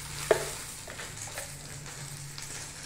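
Cumin seeds sizzle in hot oil as a quiet, steady crackle and hiss close by, with a single sharp utensil clack near the start.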